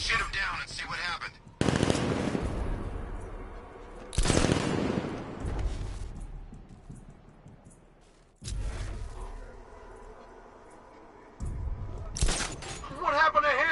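Gunfire in Batman: Arkham Knight comes in several loud rapid bursts of automatic fire mixed with shattering impacts. Quiet gaps separate the bursts, and game voices speak in between.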